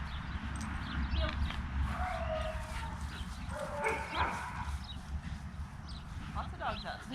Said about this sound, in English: Lots of dogs out today.